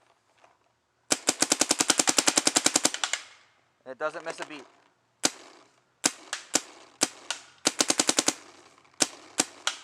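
A Virtue Luxe X paintball marker fed by a Spire IV hopper fires in rapid, loud bursts of popping shots and single shots. A brief whirring hopper sound and a man's short remark come between the strings of fire.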